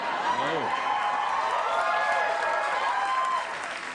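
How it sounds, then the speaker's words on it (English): Sustained studio audience applause and cheering on a late-night talk show, a dense, even wash of clapping throughout that eases slightly near the end, with a voice briefly audible early on. "what a fantastic ovation"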